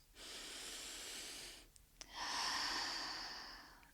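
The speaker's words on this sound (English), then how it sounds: "I will take some deep breaths" Two slow, deep breaths taken in calm relaxation, an airy inhale-exhale hiss followed by a second longer breath after a brief pause, close and quiet with no speech.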